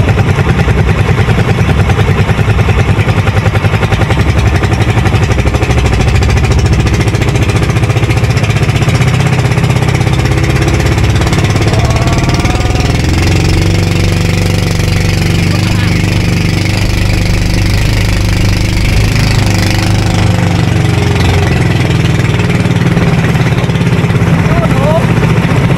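A small fishing boat's motor runs steadily and loudly throughout a jigging trip at sea, a constant low chugging drone with people talking over it now and then.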